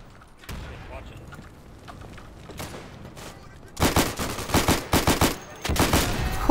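Bursts of gunfire and blasts from the World War II shooter game Day of Infamy crack out in rapid clusters after a quieter stretch of low rumble and distant shots, loud and close near the end.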